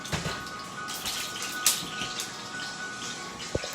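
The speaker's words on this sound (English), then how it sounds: "All the water popping in the grease." Water pops and spits in hot grease in a frying pan, making a steady close sizzle dotted with sharp crackles and small snaps, with no voices.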